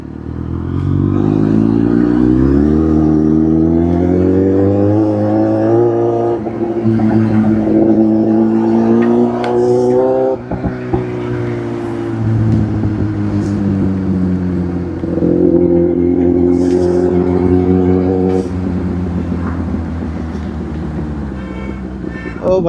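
A car's engine revs hard and steadily, its pitch climbing and sliding as the tyres spin and slip in place, loud and close for the whole stretch.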